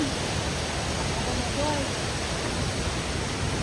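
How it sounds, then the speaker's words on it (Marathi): A waterfall near a river crossing roars as a steady, dense wash of broadband noise, loud and close throughout, with a faint voice barely audible under it. "हा एक वॉटरफॉल आहे इथं"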